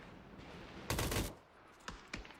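A burst of gunfire in a competitive tactical shooter match, a loud cluster of shots followed after a pause by a few sharper single cracks, with no one talking.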